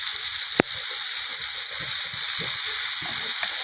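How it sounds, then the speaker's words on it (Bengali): Chopped bottle gourd fries in a pan in a village kitchen, giving a steady hiss and sizzle with a sharp clack near the start and faint stirring scrapes. "লাউ সেগুলো বসিয়ে দিলাম ভাজি করার জন্য"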